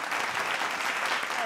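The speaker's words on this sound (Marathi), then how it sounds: "जोरदार टाळ्या मंडळी" Audience applause at a women's award ceremony, a brief burst of steady crowd clapping throughout with a faint voice beneath it.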